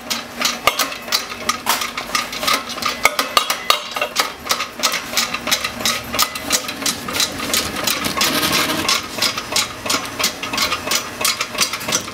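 A Parr hydrogenator shaker reactor driven by a GE motor runs with a rapid, steady mechanical clatter and rattling knocks, loud and continuous for the whole stretch with no talking.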